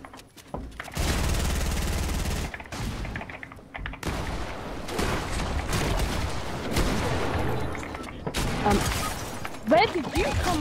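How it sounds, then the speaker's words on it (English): Sniper and rifle fire in a Fortnite Battle Royale match, sharp shots and bursts scattered across a busy soundscape, with a player talking over the action. "someone's trying to snipe me"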